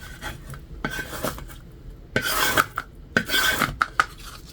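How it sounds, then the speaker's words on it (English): Cell activator is scraped into a cup in a few short, rasping strokes, close and fairly loud, with brief pauses between scrapes. "we're going to scrape this a little bit. Usually I scrape it like into a cup"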